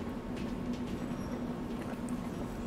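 Train station ambience from the Lost Odyssey video game: a steady, moderately loud rumbling wash with a low hum and faint, scattered higher tones throughout.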